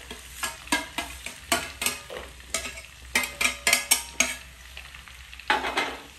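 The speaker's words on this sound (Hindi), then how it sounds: "ये जीरा जो है फ्राई हो चुका है, अब हम इसमें गोलमरीच डाल देंगे" Cumin seeds frying in a pan, stirred with repeated scraping strokes in an uneven rhythm over a steady sizzle, up close and with no talk.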